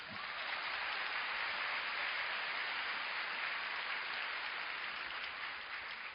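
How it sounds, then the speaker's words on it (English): Steady, dense audience applause fills a seminar hall, many hands clapping at an even level for the whole stretch with no voices over it. "Shall we give them a round of applause?"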